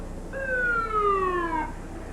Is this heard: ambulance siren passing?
yes